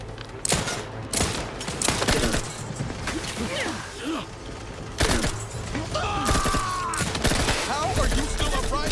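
Gunfire in the sci-fi shooter The Outer Worlds 2, with dense volleys of loud shots in irregular clusters, punctuated by impacts and mechanical clatter, close and intense, with character voices speaking between bursts.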